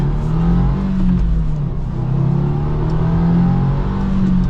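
2024 Subaru WRX TR with manual gearbox accelerating on a public road, a close, steady cabin engine drone climbing in pitch, briefly easing during a shift, then pulling again, with no talk.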